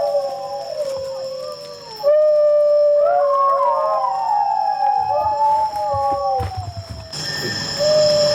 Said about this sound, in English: We blasted the sound of the singing dog that we had got